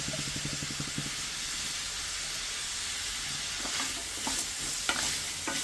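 Garlic and onion sauté in a pan while a garlic curry is being made. A steady, moderate sizzle runs throughout, broken by soft clicks of a stirring spoon, with no voices.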